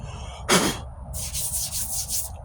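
Sanding on the passenger-side wheel arch of a 1998 Ford Ranger under repair: one short broadband scrape, then a pause and a run of five or six steady rhythmic strokes, close and moderately loud.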